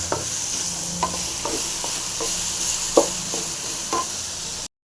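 Garlic, coriander and curry leaves frying for bitter gourd pickle, a continuous hissing sizzle marked by several spatula scrapes and taps, with no voices.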